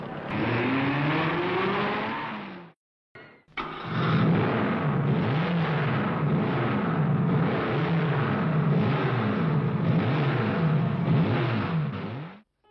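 Renault R8 Gordini race cars in a national cup race roar past one after another, engines revving and sweeping by in loud repeated passes after a brief gap.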